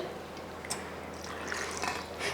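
Water is poured into a mixer grinder jar holding coconut and roasted gram for chutney, a soft, faint, continuous trickle and splash lasting a couple of seconds.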